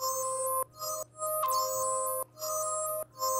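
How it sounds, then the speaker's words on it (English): Spacey synth melody for a melodic dubstep drop, sustained bright bell-like tones holding long notes with glassy upper harmonics, changing pitch a few times, clear and alone. "and a spacey synth melody."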